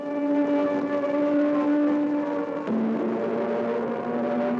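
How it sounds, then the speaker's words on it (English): A steady, droning wavering civil defense air raid siren from the World War II era holds a long tone, dips in pitch partway through, then continues, loud and sustained with no voices. "So commands the wavering siren tone."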